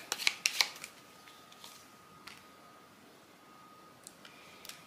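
Oracle cards are handled close by, with a few quick snapping riffles at the start and then scattered soft taps and slides, faint against a quiet room with no talk.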